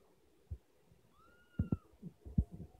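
A cat lets out a short, soft meow, followed by a few low thumps and rustles, faint and close by.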